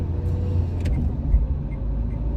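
A car drives along a road past a truck stopped in the right lane. The heard side is a steady low engine and road rumble, close and continuous, with a couple of brief knocks.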